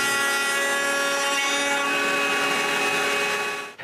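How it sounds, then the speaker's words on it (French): A power saw cuts grooves into solid wooden panels for a bathroom cabinet, a steady loud whine held through the whole stretch with a brief dip at the end, no voices. "je peux couper les rainures des panneaux solides"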